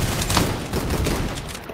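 Gunfire in the VR shooter Gun Raiders, with a dense, continuous fusillade of shots close and loud across the whole moment and no single shotgun blast standing apart.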